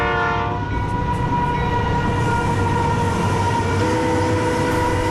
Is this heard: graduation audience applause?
no